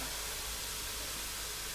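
Steady broadband hiss of food sizzling as it fries in a pan on a gas stove, a constant, fairly quiet crackling wash with no talk over it.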